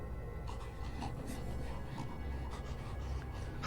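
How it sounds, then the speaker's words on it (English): Heavy, rhythmic breathing rasps close by in the Death Mark horror game, a steady panting cycle that repeats throughout with faint scratchy textures underneath. "I hear creepy breathing behind me."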